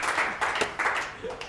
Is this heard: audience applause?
yes